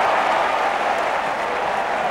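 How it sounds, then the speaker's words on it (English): Cricket crowd at a Test match between England and Australia applauding and cheering, a steady, dense roar of clapping filling the whole moment with no pause. "And that brings a lot of excitement from the crowd."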